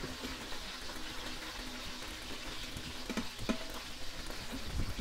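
Chicken browning in a pan sizzles with a dense, even hiss, close and moderately loud, with a few faint scrapes and taps mixed in.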